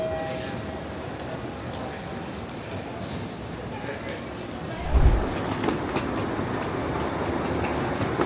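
Train rumble and rolling clatter inside Osaka station, a steady low roar with a heavier thump midway and faint station ambience.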